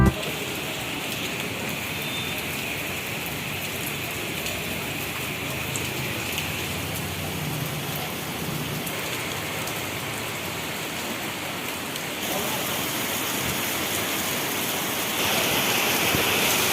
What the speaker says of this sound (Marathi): मुसळधार पावसाच्या सरी ज्या आहेत त्या सध्या जोरदारपणे कोसळत आहेत